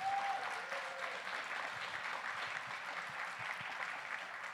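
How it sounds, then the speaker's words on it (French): An audience at a big band concert applauds trombonist Olivier Lizotte, a steady, fairly distant wash of clapping that continues evenly throughout. "J'aimerais que vous fassiez un tonnerre d'applaudissements pour monsieur Olivier Lizotte."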